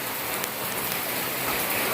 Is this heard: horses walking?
no